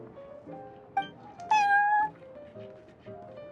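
A cat meows in a card game set in a tavern called the Cat's Tail: a short chirp, then a longer, rising, clear meow near the middle, over soft background music.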